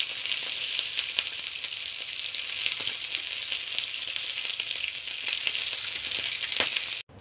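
Fish fillet sautéing in a little oil gives a steady bright sizzle that carries on without a break, with a few soft stirring ticks, then cuts off at the end.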